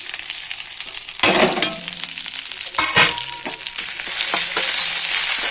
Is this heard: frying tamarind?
yes